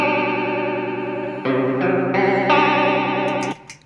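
A Flashback delay pedal's Chorus Vibe toneprint at its extreme 10 Hz rate makes a steady, fast-warbling electronic tone that shifts pitch in a few steps before stopping abruptly.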